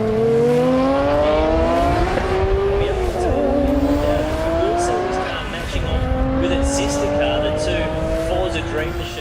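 Nissan R32 GT-R test run at a drag strip, its engine climbing through rising gear pulls with loud continuous revving and shifts, heard close throughout with voices talking over it.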